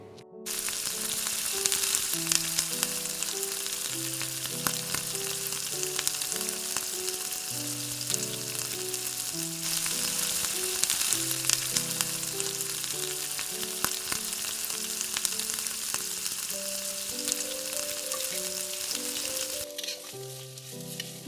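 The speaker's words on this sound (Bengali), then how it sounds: "ওটা গরম হয়ে যাওয়ার পর তার মধ্যে আমরা ভেজিটেবলসগুলো দিয়ে ভালো করে ভেজে নিচ্ছি।" Cauliflower, carrot and beans sizzle steadily while frying in hot oil and ghee for a vegetable moong dal, a continuous close crackle with occasional stirring under melodic background music.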